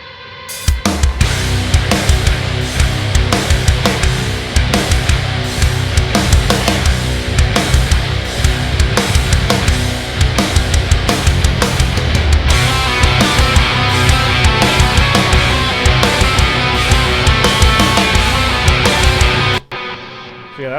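Main groove riff of Bleeding Sun's metal song Suffocated, dense distorted guitars with drums playing continuously and loud for about twenty seconds, full-band texture shifting partway through and cutting off sharply near the end.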